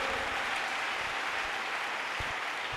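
A church congregation claps in praise of Jesus, dense steady applause filling the whole moment at a moderate distance, even and unbroken from start to finish.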